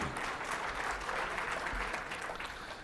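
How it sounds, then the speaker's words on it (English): A conference room full of people applauds steadily, a dense wash of clapping that holds throughout and eases slightly at the end. "Yes, round of applause."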